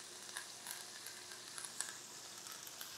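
Chicken with thyme sizzling and popping in a hot pan, a steady broad crackle with sharp scattered pops, close and fairly quiet, with no voices.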